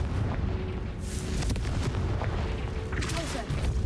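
In Hogwarts Legacy, a Confringo spell sets off a loud, dense explosive blast with rumbling booms and crackling bursts, filling the space close up throughout.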